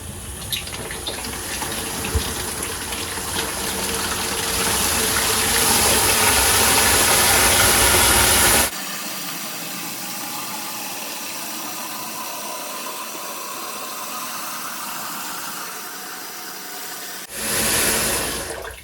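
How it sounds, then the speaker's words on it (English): Strong rushing water pours steadily through hoses into a 5-gallon bucket from a slowly opened shutoff valve, swelling louder, then cuts to a softer hiss before a brief surge returns near the end. "slowly turning on the water shutoff valve, and it's going to feed water through all of these lines and into the bucket"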